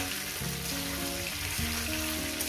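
Cauliflower and other vegetables frying with a catla fish head in a pan, a steady close sizzle that runs throughout with a low bubbling layer beneath and no talk.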